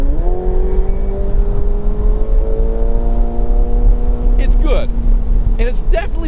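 A 2019 McLaren 720S Spider sports car engine hums steadily at cruising speed inside the cabin, its pitch slowly rising, with brief chirps and noises near the end.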